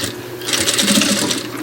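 A sewing machine runs a short safety stitch across a zipper, a steady, close mechanical whirring with a fast chattering rhythm, heard alone for under two seconds.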